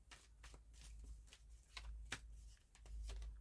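Tarot cards being shuffled by hand, a steady run of soft papery riffles and flutters close up, with no voices over them.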